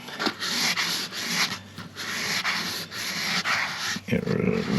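Hand sanding a faucet with 360-grit Mercer sandpaper, a steady rhythmic scratchy rubbing in quick back-and-forth strokes, close and continuous, with no talking.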